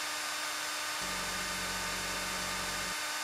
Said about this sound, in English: Start drilling.